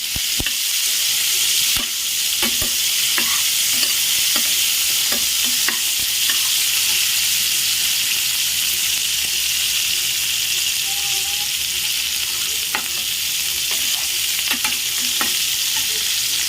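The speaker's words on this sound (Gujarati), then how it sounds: "અહીંયા આપણો ભીંડો તેલમાં શેકાઈ ગયો છે" Okra (bhindi) sizzles steadily in a pan of oil for a Gujarati sabji, a loud continuous frying hiss broken by repeated scraping taps of a spoon as it is stirred.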